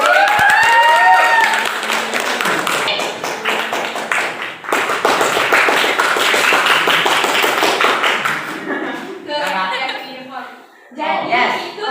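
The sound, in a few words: children clapping, applause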